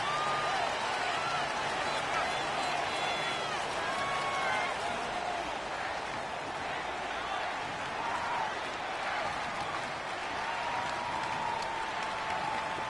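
A football stadium crowd at a Giants versus Buccaneers game fills the air with a broad, continuous roar and cheering from a distance, with scattered whistles and shouts over the top.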